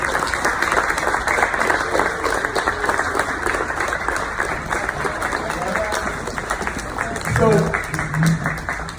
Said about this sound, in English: let's give the parents and the family a round of applause.